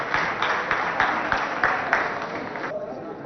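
An audience claps to welcome a student representing a lycée at a school arm-wrestling contest, a dense burst of applause of many hands, fairly near and steady, thinning out at the end.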